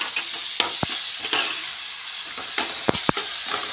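Onions frying in oil for a dondakaya masala curry, a bright close sizzle punctuated by several sharp spatula clacks and stirring scrapes, with no one speaking.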